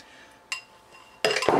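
A dish of 1942-style Carnation evaporated milk meatloaf is slid back into the oven: a brief clink midway, then a louder clatter of the pan against the rack near the end, with no talk.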